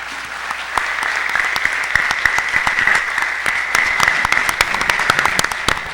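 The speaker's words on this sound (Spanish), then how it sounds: "quisiera que le brindaran un aplauso a nuestros participantes" A conference audience applauds the participants of a panel on restorative justice for adolescents, with dense, steady clapping from many hands that holds at an even level throughout.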